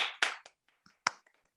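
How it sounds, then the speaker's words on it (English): A small round of applause at a graduation ceremony, a few sharp claps and sparse hand taps, fairly faint and close, with quiet gaps between them. "we deserve one more round of applause for sure."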